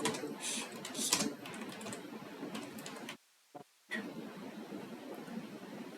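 Typing on a computer keyboard, soft close clicks in quick irregular runs, briefly cut off by a moment of silence before resuming quietly.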